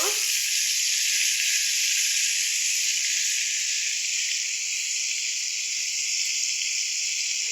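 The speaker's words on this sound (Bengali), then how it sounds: "আমি প্রথমে মাছগুলো ভেজে নিতেছি, হালকা ভেজে নিব।" Rohu fish pieces frying lightly in hot oil give off a steady, bright hiss that runs unbroken and fairly loud from start to finish, with no voices over it.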